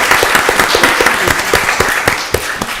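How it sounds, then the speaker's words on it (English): A room at a county board of commissioners meeting applauds the Technology Services team with steady, close, rhythmic clapping from a modest crowd, lasting about three seconds with no talking. "Y'all give Technology Services another round of applause."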